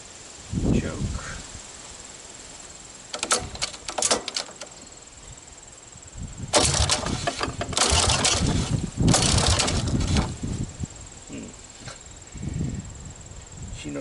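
A Honda ATC200S three-wheeler is cold-started on choke, its engine catching in rough bursts of sputtering revs that fail to settle into an idle, with someone talking nearby between the attempts.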